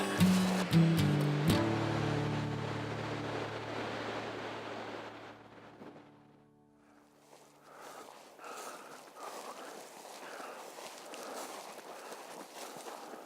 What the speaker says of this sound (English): Don't really know how to set up with all this swirling wind.